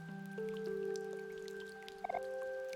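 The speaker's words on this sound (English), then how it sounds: "I am satisfied with the amount of rain." Soft, steady rain falls in the video game OMORI, faint and continuous beneath sustained synth game music tones, with a few brief brighter drips near the end.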